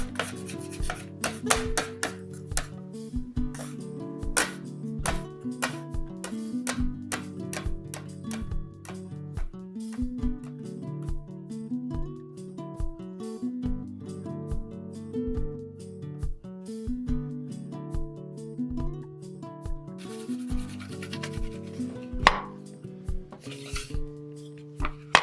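Sourdough cinnamon roll dough, rolled up, is cut with a knife in repeated sharp taps against a board, irregularly spaced over about twenty-five seconds, fairly close and quiet, with music playing underneath.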